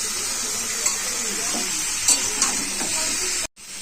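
Drumstick, potato and pumpkin pieces stir-fry with turmeric and salt in a pan. A continuous close sizzle carries a few light spatula clicks, then cuts off briefly near the end.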